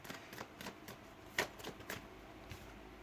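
Tarot cards being shuffled by hand in a quick, papery series of riffles and soft slaps, close and fairly quiet, with no talking.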